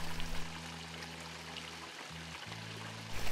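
A garden pond waterfall trickles and splashes in a steady broadband wash, with a low hum running underneath that breaks off briefly partway through, and no voices.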